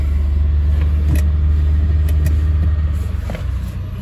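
A 2002 Honda Odyssey engine idles steadily just after starting, a low continuous rumble held close and loud throughout, with a few faint clicks above it and no voices.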